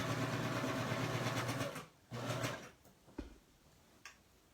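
A serger or coverstitch machine stitches fabric for an eyeglass case in a loud steady hum, pausing briefly, running again, then stopping before a couple of clicks and handling knocks.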